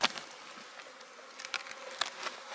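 Steady insect buzzing with a soft, hissy texture, close by and continuous, with a few brief taps and flutters scattered through.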